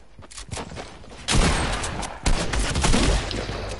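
Gunfire in a PS4 shooter, with a sharp sniper rifle quick-scope shot among loud, close bursts of repeated shots and heavy impacts, the firing dense and continuous across the clip.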